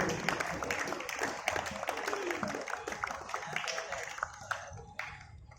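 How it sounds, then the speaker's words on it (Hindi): Clapping from an audience welcoming the chief guest at a Republic Day football tournament, a dense patter of hands that is fairly faint and gradually thins out toward the end. "So can we have a big round of applause for Mr."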